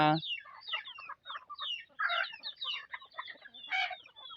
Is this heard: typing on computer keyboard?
no